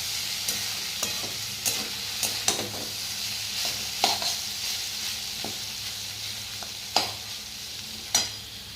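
Potatoes frying in a pan on a home kitchen stove, with a steady soft sizzle and sharp scraping stirs every second or so, close up and with no voices.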